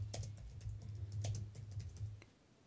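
Typing on a computer keyboard: a quick run of close, crisp key clicks in irregular rhythm, about a dozen taps over a few seconds, quiet and alone.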